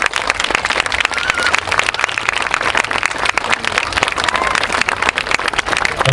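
Sustained crowd applause in memory of Grégory, dense and loud hand clapping filling the whole stretch without pause, no voices standing out.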